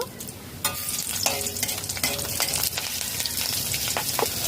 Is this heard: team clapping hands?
no